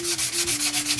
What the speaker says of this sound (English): when you're sanding, sand with the grain